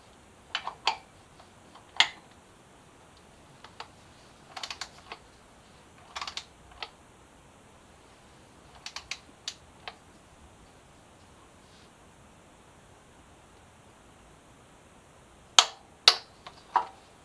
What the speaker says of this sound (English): now let's torque it in 32 foot-pounds